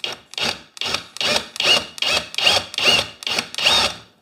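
A drill reverses out of a kitchen cabinet's wood in nine steady, evenly spaced rasping bursts, close and loud with short gaps between, and no talk.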